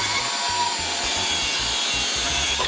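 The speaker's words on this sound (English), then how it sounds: "let's have a cut through this lovely piece of plywood I've got here" Hikoki 36V brushless circular saw cutting through a sheet of plywood, a loud, steady whining cut held alone for nearly three seconds with a rough, rumbling texture beneath.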